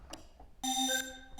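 A bright synthesized trap bell tone from a software synth plugin rings out with shimmering overtones, sustaining for a moment before decaying, after a few faint clicks.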